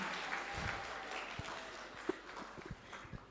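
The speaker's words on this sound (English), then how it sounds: "Come on, keep on clapping." Applause continues from an audience at the Africa Science Buskers Festival as a woman walks up to give welcome remarks, moderately loud and thinning slightly, with a few louder individual claps and footstep-like thuds standing out.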